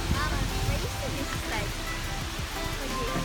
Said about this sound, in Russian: Покажи, какой он большой водопад, Асланчик.